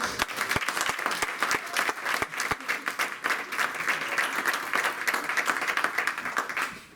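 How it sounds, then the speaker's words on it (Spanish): Congregation applauding during a Spanish-language church service: dense, steady clapping from many hands that fills the room for the whole stretch, with no voices over it. "¿Le puedo dar un aplauso al Rey de Reyes?"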